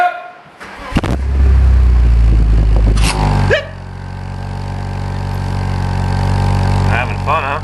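A running engine rumbles steadily, cutting out and restarting with shifting tone, while people talk loudly over it near a vehicle in the rain.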